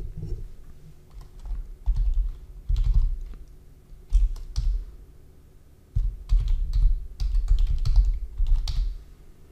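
Someone types on a computer keyboard in short bursts of rapid key clicks separated by brief pauses, heard close and clear with no talking.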